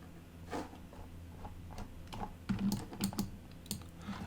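Computer keyboard keys are pressed in short bursts while a Fusion 360 low-poly window model is being UV unwrapped, giving a handful of crisp, close clicks in an irregular rhythm over a quiet room tone, with no voices.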